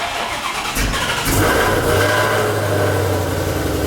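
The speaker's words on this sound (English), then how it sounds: "Every time I cold start this car, I don't even stand behind it because this shit is so loud" Dark Horse car engine cold-starting about a second in, then settling into a loud, steady, deep exhaust rumble with a raised idle close by, no voices.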